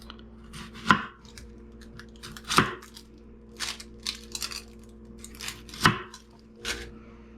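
Knife chopping an onion on a cutting board for fried cabbage, a few sharp, irregular chops spread out, with quieter scraping and handling between them, no talking.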